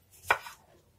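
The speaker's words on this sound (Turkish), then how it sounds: "Şimdi onları ince bir şekilde dilimliyorum." One crisp knife chop on a cutting board while slicing vegetables thinly for a salad, a single short close stroke in a quiet room.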